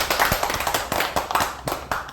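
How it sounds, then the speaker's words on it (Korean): A group of party members at a political gathering claps hands together in a brisk, uneven rhythm, the claps dense and fairly loud with no talking over them. "우리 모두를 위해서 박수 한번 치시죠."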